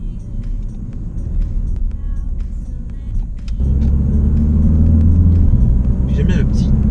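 A Ford Focus ST TDCI diesel with a Powershift gearbox drives with a steady low engine rumble. About halfway through, the sound shifts and grows louder as a gear change goes through, and people talk over the engine the whole time.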